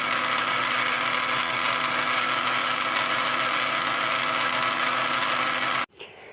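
An electric kitchen blender runs its fast-spinning blades through food, giving a steady, loud whirring drone with a gritty grinding edge for nearly six seconds before it cuts off abruptly and only faint room noise remains.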